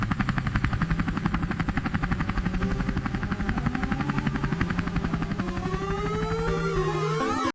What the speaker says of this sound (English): The police helicopter is the eye in the sky.